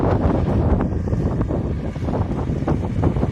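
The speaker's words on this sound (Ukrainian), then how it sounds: "Вітер вам погано чутно" Strong wind buffets the microphone in a field during alfalfa sowing with a seeder, producing a loud, continuous low rumble with gusty fluctuations throughout.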